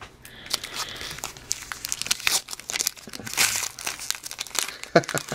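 Crinkling foil as a pack of 2010-11 Luxury Suite hockey cards is torn open, a close, busy run of crackles and rips with soft voices underneath.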